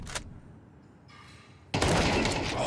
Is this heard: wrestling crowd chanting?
no